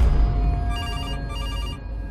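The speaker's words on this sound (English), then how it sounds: "I'm guessing the phone's going to ring again." A telephone rings in a horror video game about animatronics, a loud close trilling electronic ring in two bursts over a low rumbling backdrop, with no talk.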